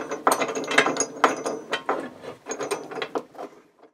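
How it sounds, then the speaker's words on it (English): Clamps being ratcheted tight on a freshly glued guitar body blank for a custom Les Paul build, giving a series of close, crisp clicking ratchet bursts in an irregular rhythm before falling quiet. "we can start to close up our clamps"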